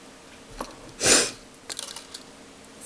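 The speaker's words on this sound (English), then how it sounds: "Sniffles again." A single sniffle through the nose, a short breathy burst standing alone near the mic, followed by a few soft clicks and light handling noises from cardmaking work.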